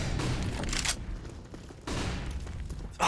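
Flashbang grenades and gunfire in a Counter-Strike match on the Overpass map, with loud bursts of broadband noise and crackling shots repeating through the short clip.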